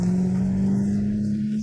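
A car accelerates hard and speeds off, its engine holding a strong steady drone that stays loud and near throughout the short burst.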